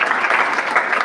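A church congregation claps for God during a Hindi-language sermon, a brief burst of dense, even applause from many hands.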